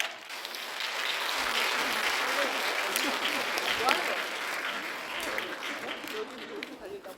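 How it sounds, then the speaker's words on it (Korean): Sustained audience applause after an economics lecture in a Bucheon city hall event space, a dense, even clapping that holds for several seconds while a host speaks over it. "오늘 강연해 주신 홍춘욱 대표님께 다시 한번 감사의 박수 부탁드립니다"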